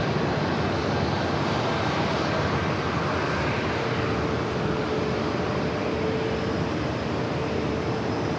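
A Boeing 737 MAX 8 airliner takes off with a dense, continuous roar of jet engine noise, loud and steady throughout and without any voices.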